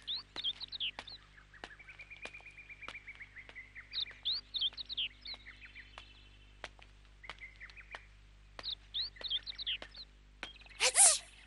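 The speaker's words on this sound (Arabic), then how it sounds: "عثرت على أحد عصافير الدوري الجميلة" A sparrow chirps in a cartoon, with bursts of quick high twittering and tweets repeating in short clusters over a faint steady hum, ending with a sharp louder chirp.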